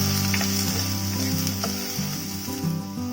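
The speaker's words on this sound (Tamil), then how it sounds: "இதுல சின்ன வெங்காயம் உரிச்சு வச்சிருக்கேன் பாருங்க, இதையும் போட்டு வதக்கிக்கலாம்." Peeled small shallots sauté in a pan for bitter gourd sambar, giving off a steady close sizzle with occasional stirring. Melodic background music plays underneath throughout.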